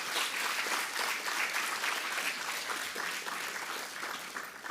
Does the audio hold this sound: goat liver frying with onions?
no